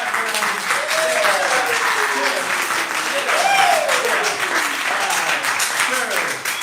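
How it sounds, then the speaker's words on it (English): A crowd claps at the close of a Friday-night comedy showcase, a continuous rolling applause heard slightly back in the room, with gliding tonal sounds and voices drifting over it. "They're clapping in the background."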